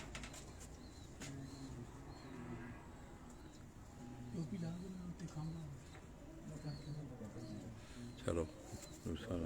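Soft pigeon coos murmur repeatedly in the background on a rooftop while a person talks nearby, with occasional rustling.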